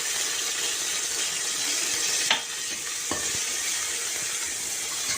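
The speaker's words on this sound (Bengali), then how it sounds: "এবার দিলাম আদা বাটা" Ginger paste frying in hot oil in a pan for ghugni, a steady close sizzle throughout with a brief stir or scrape partway through, no talking.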